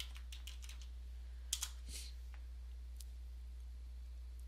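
Typing a username and password on a computer keyboard: a scattered run of light key clicks, a few sharper taps midway, then sparse single presses over a steady low hum, with no voices.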